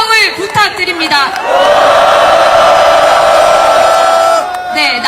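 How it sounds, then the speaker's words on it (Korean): Large crowd at a nighttime candlelight impeachment rally outside the National Assembly bursts into loud sustained cheering and applause, a broad roar swelling and holding for several seconds with a few shouted voices at the start and end. "큰 박수와 함성을 부탁드립니다"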